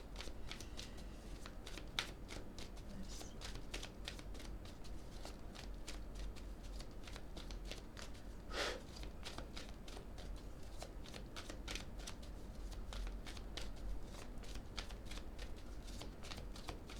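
Tarot cards being shuffled by hand, a long run of rapid, close, crisp riffling flicks repeating steadily with brief pauses, quiet and without talk.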